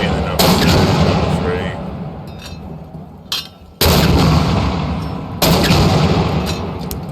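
Mortar rounds are fired during Marine Corps infantry training: three loud, sharp blasts, each followed by a long rumbling decay, with a faint voice between shots.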